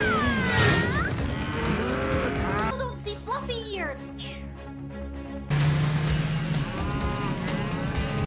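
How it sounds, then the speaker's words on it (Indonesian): Cattle mooing repeatedly, close and loud, with livestock calls layered over background voices and music in an animated scene about rounding up runaway cows. "yaitu menangkap para sapi yang kabur"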